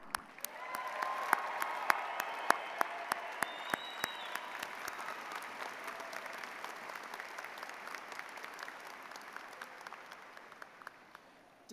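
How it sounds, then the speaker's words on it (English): A graduation ceremony audience applauds the graduates of Drexel's Westphal College of Media Arts and Design, producing a sustained wash of clapping from a large hall crowd, fairly distant and steady, slowly thinning toward the end. "you're the ones who deserve the applause. So let's rev it up for today's graduates"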